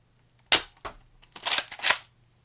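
A modified Skid Shot single-shot, muzzle-loading toy blaster firing Adventure Force waffle darts makes a sharp pop, then a softer knock. Two more close, snappy bursts follow in a quiet setting, with no talking.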